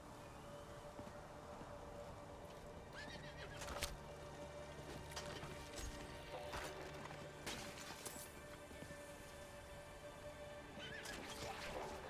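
A horse in the video game Diablo 4 whinnies loudly several times over a steady bed of clip-clopping hooves and game ambience, with occasional sharp crashes.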